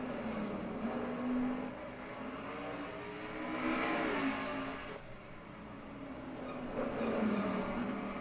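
Race cars circle a virtual Kalamazoo Speedway oval during an open race night in a racing video game, a steady engine drone swelling and fading as cars pass, moderately loud with no talk.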